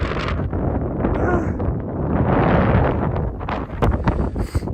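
Strong wind buffets the microphone on a cold night hike in the Jura, a loud, continuous rushing roar with gusty swells and a few sharp knocks near the end, no talking.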